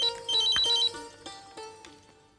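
A telephone rings with bright electronic trilling bursts that fade into a softer decaying tone, loud and close, with no speech over it.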